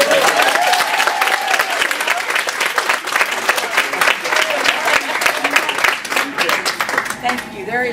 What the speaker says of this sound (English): can I get a big round of applause for